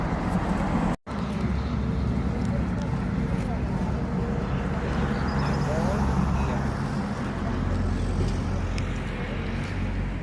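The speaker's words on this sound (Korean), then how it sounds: "엄청 많이 옵니다. 레온으로 들어가는 차들인 것 같습니다." Cars drive along the road into León on the Camino de Santiago, making a steady, continuous roar of passing traffic close by. Faint voices can be heard along with it.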